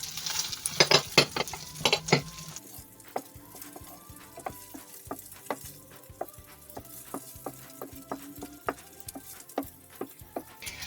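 Spaghetti meat sauce with added salami is stirred in a pan, with a low simmering sizzle behind repeated close clicks and knocks of a utensil against the pan, busier at the start.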